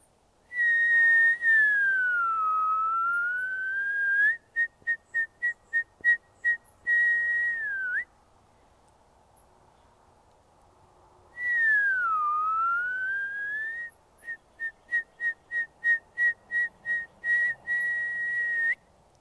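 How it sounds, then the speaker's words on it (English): A person whistles a sliding high tone followed by a rhythmic series of short repeated notes, then pauses and repeats the same pattern, loud and close. "a whistle came out of my body."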